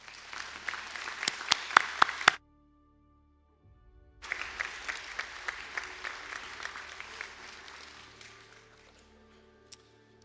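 Graduates and guests at a conferring ceremony in Sligo applaud computing graduates, a dense burst of clapping that stops abruptly, then after a few seconds of near silence resumes as a sustained round that slowly thins out.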